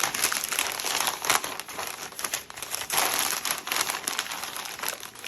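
Newsprint paper crumples and crinkles as items are wrapped for a move, a continuous close rustling with repeated crunchy bursts as sheets are folded and tucked, and no talking.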